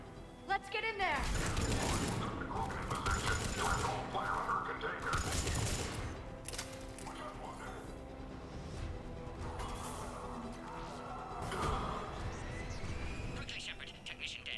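Mass Effect 3 combat at a Cerberus checkpoint sets rapid bursts of gunfire and mechanical clatter against tense talk, with the shooting loud and dense early before easing under voices and effects.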